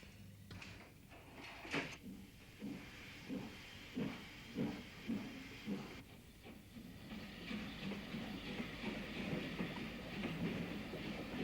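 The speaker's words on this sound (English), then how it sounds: "the daily goods train shunting back and forth and dropping off or collecting the odd wagon or two" Steam goods train shunting on a branch line, with a rhythmic series of chuffs rising and falling over a hiss, then a broader steady rushing rumble, fairly faint and distant.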